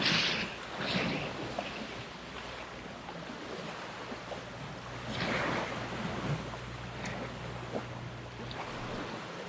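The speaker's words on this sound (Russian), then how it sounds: "шум прибоя." Steady wash of sea surf on a stony shore in Anapa, waves swelling and breaking at a moderate distance, plus light wind rumble, no voices.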